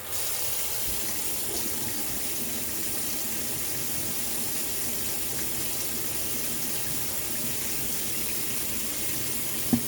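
A tap runs steadily into a sink while a dyed polyester blend jacket is rinsed under it. The flow is a constant close rush for about ten seconds, ending with a faint knock.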